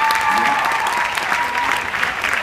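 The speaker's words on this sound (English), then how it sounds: "a big round of applause for Claire Brazier, our TAP Bursary Award judge" Sustained audience applause at a dance festival award presentation, honouring the bursary award judges as they leave the stage; a dense, steady wash of clapping fills the whole stretch at even loudness.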